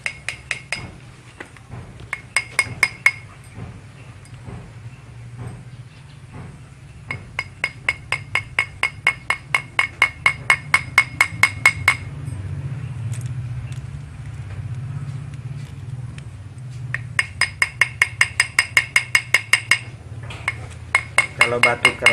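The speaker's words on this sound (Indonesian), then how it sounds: "pukul gini dengan palu atau" A hammer or striking tool taps the metal prongs of a ring to set a hard stone, delivering rapid runs of sharp metallic clinks in repeated bursts with pauses between, close and crisp over a low hum.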